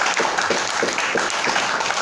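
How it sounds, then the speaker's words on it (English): Audience at a poetry night applauding, a dense continuous wash of many hands clapping at steady loudness throughout, with no talk over it. "give yourselves a huge round of applause right now"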